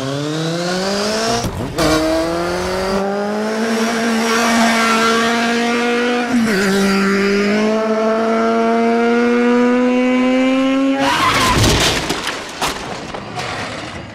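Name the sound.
motorcycle riding fast with tire squeal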